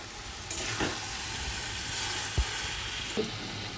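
Banana flower curry with Gobindobhog rice sizzling in a pan as butter and garam masala are stirred in, a steady hiss broken by a few soft spoon knocks against the pot.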